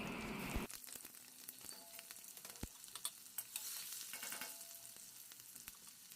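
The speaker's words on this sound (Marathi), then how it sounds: "जिरे व्यवस्थित तळले गेले की लगेच लसूण आणि मिरची घालायची आहे" Garlic and green chillies frying in hot oil with cumin seeds, a faint busy crackle and hiss with scattered pops and a couple of utensil knocks, after a brief louder burst at the start; no voices.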